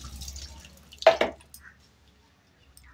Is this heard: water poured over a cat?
yes